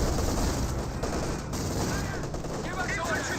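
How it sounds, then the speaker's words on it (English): S-mines detonating in the Company of Heroes 2 battle game, a dense wash of blasts and rattling gunfire that stays loud and continuous throughout, with a commentator's voice faintly underneath. "S-mines being detonated."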